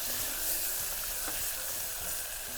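Onions and tomatoes, added after mint leaves, sauté in a hot pan with a loud, continuous sizzle and occasional stirring scrapes, close up and without talk.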